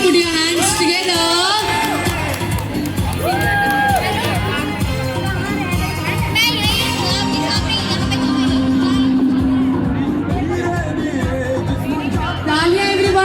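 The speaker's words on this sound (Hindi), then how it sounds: "Put your hands together." An audience at a beauty expo cheers and whoops loudly over blaring music, with a host's amplified voice calling out above the crowd.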